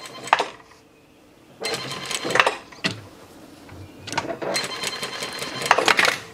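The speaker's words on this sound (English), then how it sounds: "we're going to stop just one stitch short of completing it, and then back stitch." Sewing machine stitching a shirt, including back stitching, in several loud bursts of rapid mechanical clatter separated by short pauses.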